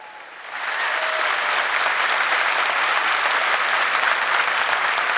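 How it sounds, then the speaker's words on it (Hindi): Loud, sustained applause from a live audience at a Hindi comedy and satire poetry show, rising sharply within the first second and holding steady as a dense wash of clapping honoring India's space agency ISRO. "ये तालियां इसरो के लिए मैंने इसलिए बजवाई"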